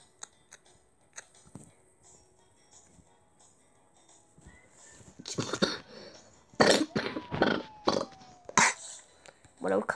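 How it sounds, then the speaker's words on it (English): After a quiet stretch with faint clicks, a series of sharp, loud coughs bursts out close by in quick succession. "When I cough, sound like a jerk."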